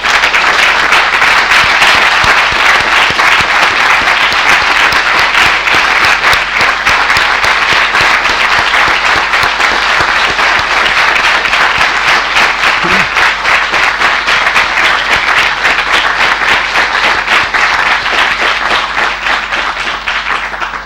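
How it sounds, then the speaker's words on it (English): Loud, sustained audience applause at a graduation and opening ceremony for faculty and staff, a dense continuous roar of many hands clapping close by for about twenty seconds, with no speech over it. "we can give them a particular round of applause"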